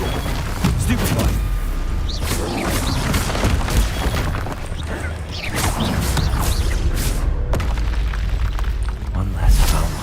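Spell blasts and booming explosions from combat in Hogwarts Legacy sound loud and continuous, with a voice shouting over the crashing, rumbling effects.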